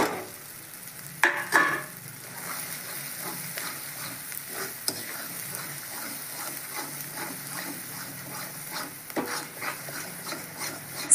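Spice masala frying in oil for a chicken dish, stirred steadily in the pan, with a continuous close sizzle and repeated scraping strokes of the spoon throughout, a couple of louder clatters near the start, and no talking.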